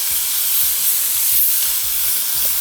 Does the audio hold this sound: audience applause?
no